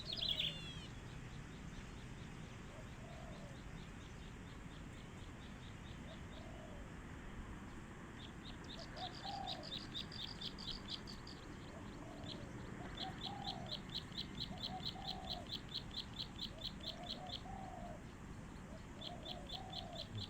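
Spotted dove (nok khao yai) cooing in repeated soft, low phrases at moderate distance, set against a steady outdoor background with insect-like buzzing and faint chirps.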